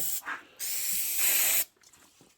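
A chainsaw engine being hosed out with spray, a strong steady hiss lasting about a second after a couple of brief bursts, then cutting off to quiet.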